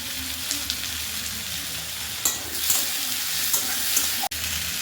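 Chopped tomatoes dropped into a sizzling crab curry, a bright continuous hiss of frying oil with a few small pops and clinks of a spoon against the pan.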